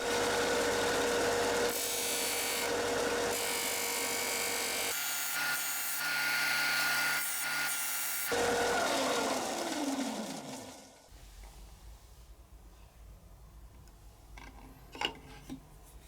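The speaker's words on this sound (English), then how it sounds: "For further shaping I use the art Dremel." A small rotary tool grinds and shapes a seashell into a sculpture, a steady high whine with rubbing texture that cuts off partway, leaving faint handling noises and a brief click afterward.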